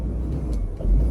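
An old highboy truck engine that needs a muffler runs steadily, a loud low rumble throughout with a slight swell near the end.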